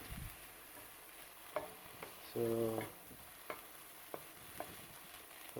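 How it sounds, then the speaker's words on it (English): Soft sizzling from St. George's mushrooms frying in a pan as their water evaporates, with a few light utensil clicks and a brief low hum; a voice speaks once. "Now you can hear the sizzling, so that means the water is evaporating."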